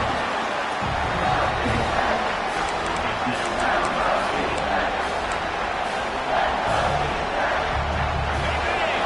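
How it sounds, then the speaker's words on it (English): A big football stadium crowd roars in a dense, constant wall of noise as the defense lines up near the goal line, loud and unbroken the whole time, with a commentator talking over it. "this big crowd doing everything possible to inspire this defense down here near the goal line"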